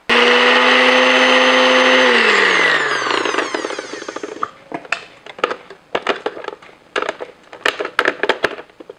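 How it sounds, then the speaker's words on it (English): A blender motor roars steadily blending roasted cauliflower, then its pitch drops and it sputters, giving way to irregular chopping, clattering bursts as the blades struggle with the thick food. "trying to blend cauliflower in a blender"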